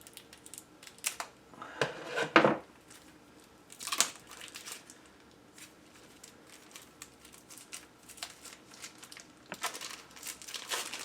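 Plastic wrap is peeled and crinkled off a tarot card deck up close, with scattered soft crackles and a few sharper rustling bursts amid quiet pauses.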